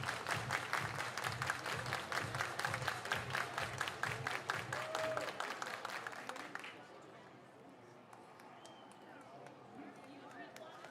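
Baseball crowd at a Great Falls Voyagers minor-league game reacting to a near pickoff at first base, a sustained roar with scattered clapping that fades after several seconds into quieter stadium murmur.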